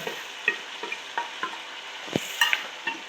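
A spoon stirs a mixed vegetable curry of carrot and beans with chili, coriander and cumin powder in a pan, giving repeated soft scraping strokes over a gentle steady sizzle, close by with no voices.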